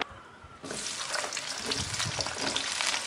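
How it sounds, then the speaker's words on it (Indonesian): Cut eggplant pieces dropped into hot oil in a wok, giving a sudden onset of steady, dense sizzling and crackling frying noise that continues close and loud with no talk. "Kalau sudah panas, kita mau masukkan terong sudah tadi kita potong-potong."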